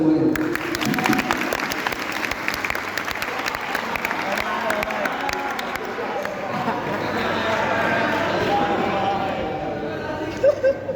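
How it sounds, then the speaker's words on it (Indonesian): Audience applause at an Islamic general discussion forum, a steady dense patter of many hands clapping continuously from a nearby crowd, with murmured chatter and voices mixed in throughout. "Tepuk tangan untuk semuanya."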